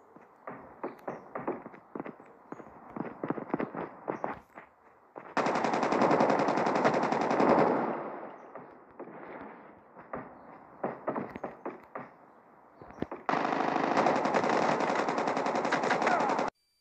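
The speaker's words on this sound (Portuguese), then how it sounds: "Muitos tiros." Heavy gunfire in the Call of Duty video game: bursts of rapid single shots alternate with long sustained machine-gun streams, loud and close, with no talking over them.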